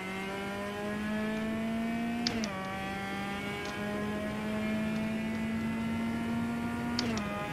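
A race car engine at full throttle in the Automobilista racing game at the Norisring street circuit. The whine climbs steadily, briefly dips at two gear shifts, and stays loud and constant with no talk.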